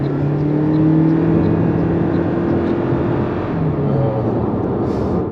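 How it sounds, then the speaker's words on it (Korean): A fifth-generation Toyota Prius hybrid's Atkinson-cycle engine accelerates, heard from inside the cabin: a coarse, droning hum whose pitch slowly climbs and then settles. "애킨슨 사이클 엔진 특유의 칼칼하면서도 듣기 편하지 않은 엔진음이 별다른 필터링 없이 실내로 들어왔습니다"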